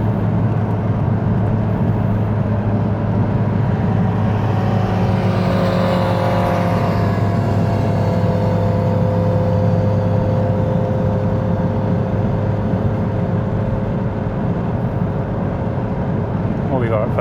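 A turbocharged Mazda RX8 with a Renesis rotary engine runs on a dyno, a loud sustained buzzing engine drone with a rising pitch sweep. Voices talk over it.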